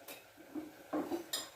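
A metal spoon clinks against a cooking pot a few times while coriander powder is added to a dish; the taps are light and separate, with quiet gaps between them and no talking.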